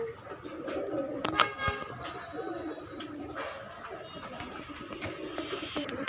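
Bagha pigeons kept for flying cooing at a bird seller's stall, soft repeated coos close by among other birds, with light background noise and some indistinct talk.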